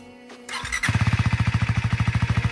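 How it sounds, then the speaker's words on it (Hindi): A stock-exhaust KTM Duke 390 motorcycle starts with a brief whine, then settles into a loud, close, steady idle with an even pulsing beat. "आज ना इसका स्टॉक का साउंड सुन लो"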